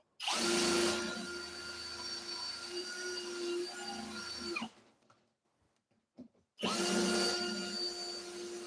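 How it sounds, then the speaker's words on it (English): A power drill drilling into metal whines loudly in two long bursts, with a short pause between them filled with small clicks and handling noise. "I got to drill them a little bit more."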